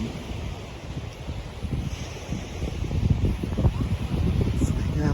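Waves wash steadily onto a Gulf of Thailand beach at Hua Hin under an overcast sky, a continuous near surf rumble with gusty wind buffeting the microphone and no talk.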